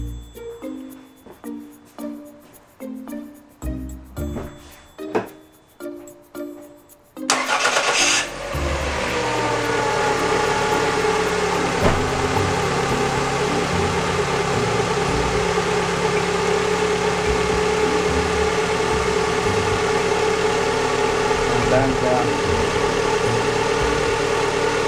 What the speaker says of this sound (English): then I start the engine